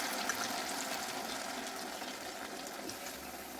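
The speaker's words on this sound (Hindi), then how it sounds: "हम 1 कटोरी पानी भी डाल देते हैं, ये अच्छे से पक जाए।" Water poured from a bowl into a pan of manchurian as it cooks, a steady dense rushing splash that continues without a break.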